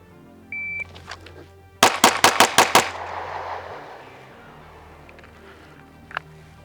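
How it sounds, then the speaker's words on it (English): Springfield Echelon pistol fired from concealment at a B8 target on a range: a rapid string of six sharp, loud shots in quick succession, each cracking and ringing out over a fading echo, with a faint beep beforehand. "I pulled 2 shots just left of the A zone"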